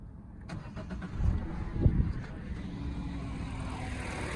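A 1.6 VTi car engine, after a water pump change, cranks and turns over, then settles into a low steady idle rumble, heard close up with no speech.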